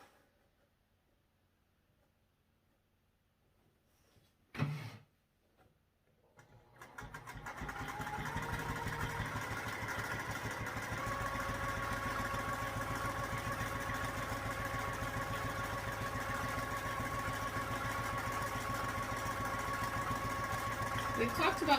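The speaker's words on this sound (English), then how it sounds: "And you'll just sew along this whole box" After a quiet start and a brief knock, a domestic sewing machine starts and runs steadily at close range, stitching along a marked box on fabric for a quilt block with a fast, even motor whir.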